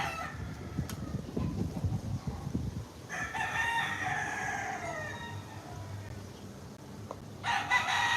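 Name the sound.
rooster crowing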